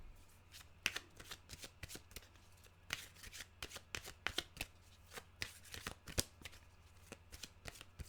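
A deck of animal cards being shuffled, with quick close riffling bursts and crisp flicks repeating irregularly at a soft level, and no talking.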